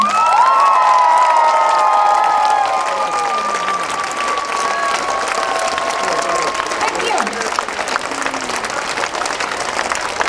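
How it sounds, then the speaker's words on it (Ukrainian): Sustained applause and cheering from an open-air concert crowd on a square in Ternopil, loud and steady, with scattered shouts and a voice talking over the clapping. "І ще раз вам великі оплески."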